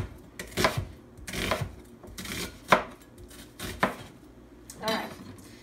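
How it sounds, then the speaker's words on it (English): A knife cuts an onion into half rings, with about six crisp, close strokes against the board at uneven intervals and no talking. "Now we're gonna cut it in half rings."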